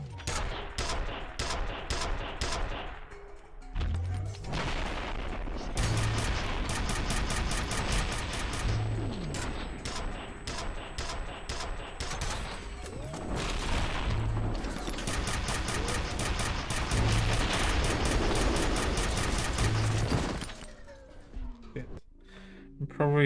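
Friendly-fire gunshots in the shooter game F.E.A.R., with bursts of automatic gunfire and repeated shots running almost continuously, loud and dense, easing off near the end.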